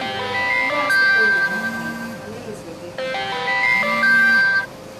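A mobile phone ringtone plays a repeating melodic electronic jingle, two cycles of the tune heard fairly loud and close, with a low background murmur underneath.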